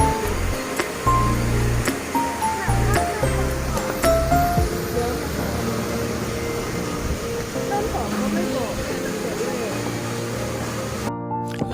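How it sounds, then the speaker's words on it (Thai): Stream flowing beside an outdoor restaurant on Koh Chang, a constant broadband rush of water with clinks, scattered voices and background chatter mixed in throughout. "มีลำธาร ข้างๆนะครับ บรรยากาศดีมากเลยนะครับ"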